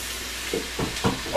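Onions sauteing in a pan for French onion soup, a steady close sizzle and hiss with a few brief stirring swells, no voices.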